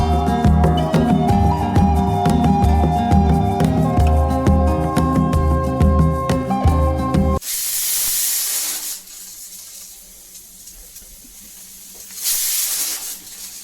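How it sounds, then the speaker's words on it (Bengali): Music plays for the first half, then a pressure cooker cooking lentils lets off loud bursts of hissing steam, one long release followed by a quieter stretch and a second burst near the end. "প্রেশারে সিটি পড়ে গেছে ডাল সেদ্ধ হয়ে গেছে"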